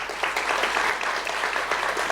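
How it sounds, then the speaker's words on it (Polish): Applause from a conference audience honouring a judge at a legal civic-education event fills the room, steady and continuous with dense overlapping claps throughout. "Także wielkie brawa dla pani sędzi jeszcze raz."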